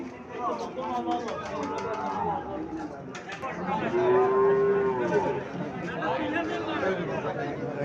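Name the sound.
Sahiwal bull calf mooing at a cattle market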